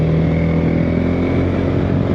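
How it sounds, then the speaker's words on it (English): A TVS Apache RTX 300 motorcycle pulls hard under acceleration, its steady engine drone close and loud, with wind rush over the microphone and no talking. "See how the bike will pick up here."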